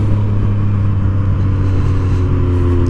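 A truck engine rumbles loudly and steadily at close range while the driver tries to pull wheelies, a deep constant drone with no clear rev changes.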